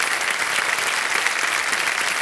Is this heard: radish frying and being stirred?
no